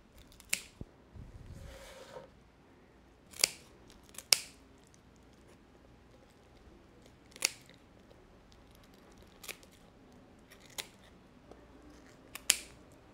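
Shears trim the gills from a fresh fish with a series of sharp, sparse snips spread over several seconds, close and fairly quiet, against a near-silent background with a soft rustle early on.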